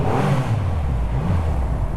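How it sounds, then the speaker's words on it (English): Deep, steady engine rumble from a Triumph Rocket III motorcycle echoing in a tunnel, a continuous low exhaust note with slight gear whine, fairly close and unbroken. "She is very quiet for an exhaust note, but ooh, a little bit of a rumble there and a slightly high gear coming in"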